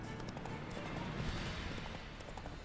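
Horse hooves galloping away in The Witcher 3, a steady muffled clip-clop rhythm of moderate loudness running continuously under faint game ambience.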